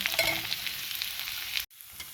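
Meat pieces for gyros, such as venison, beef, pork, lamb or chicken, sizzle and spit in hot oil in a pan, a loud, close, steady crackling fry that cuts out briefly before resuming.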